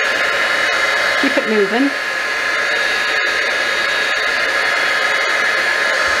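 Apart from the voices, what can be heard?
heat embossing tool blowing hot air on stamped paper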